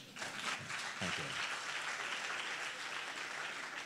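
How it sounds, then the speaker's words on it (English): An audience at a lecture breaks into steady applause, a dense wash of clapping that holds at even strength throughout, with a brief voice near the start. "You have to clap for that."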